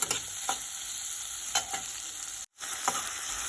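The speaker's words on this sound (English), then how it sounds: "We have to fry this onion for 2 minutes." Onion frying in a pan for hotel-style red chutney, a steady close sizzle broken by a few stirring scrapes and a brief dropout midway.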